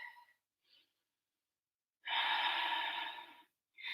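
Deep, audible breaths during a yoga flow: a short, soft intake, then a long, breathy exhale through the nose or mouth, close and quiet, with another breath beginning at the end.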